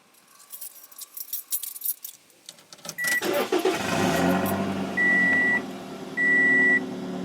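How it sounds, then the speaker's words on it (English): A car engine cranks and starts, then idles steadily and loudly close by, with keys jangling beforehand and two sustained electronic beeps or chimes sounding over the running engine; no one speaks. "So let's turn on the car."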